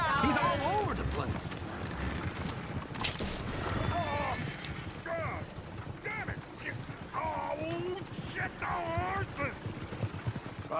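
Horse hooves clip-clopping in Red Dead Redemption 2, a steady rhythmic clatter of hooves running throughout, mixed with rolling coach and mechanism noise, while people talk over it.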